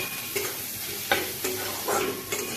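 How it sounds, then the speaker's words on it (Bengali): Chopped onions frying in a hot pan, a soft steady sizzle broken by a few scraping stirs of a spoon at intervals, close and fairly quiet. "পেঁয়াজগুলোকে আমি একটু বেশ ভালোভাবে ভেজে নেব।"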